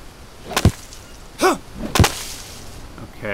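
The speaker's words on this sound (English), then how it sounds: "Wonder if we can chop this." Several swift swishing swings cut the air in the survival game Green Hell as a blade is swung to chop, three distinct whooshes about half a second apart, close and alone without talk.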